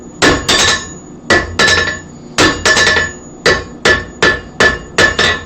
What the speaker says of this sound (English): straightening it out and trying to remove some hammer marks